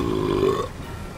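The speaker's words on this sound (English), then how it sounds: "Burp." A man lets out one loud, low, drawn-out burp lasting about half a second close to the microphone, then it trails into quiet.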